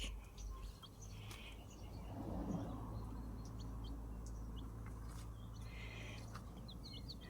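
Young chicks in a small hobby garden give faint, scattered high chirps over a low steady background hum, heard from a short distance with no talking.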